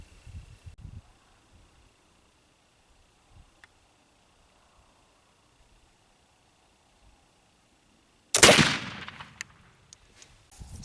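A black powder rifle loaded with homemade sycamore charcoal powder fires a single loud, close shot after a long quiet stretch, the sharp blast decaying into a rumbling tail.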